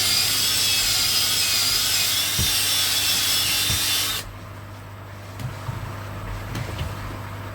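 A power drill whines at high pitch for several seconds, then cuts out, leaving a low hum and a few knocks.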